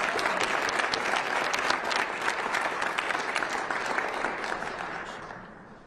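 Sustained applause from an audience at a state representatives' press conference on protecting immigrants, steady and dense throughout before tapering off at the end, with no talking over it.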